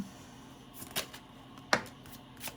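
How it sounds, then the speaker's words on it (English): A deck of tarot cards being shuffled gives a few brief, crisp riffling bursts spaced apart, close and fairly quiet, with no speech. "let me just finish this shuffle"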